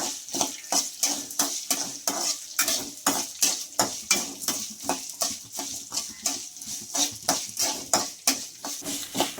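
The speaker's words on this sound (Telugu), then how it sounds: "అప్పుడే బాగా అల్లం ముక్కలు అన్నీ వేగుతాయండి" A utensil scrapes and stirs ginger pieces frying in a pan on low heat in a steady rhythm, about two strokes per second, over a faint sizzle.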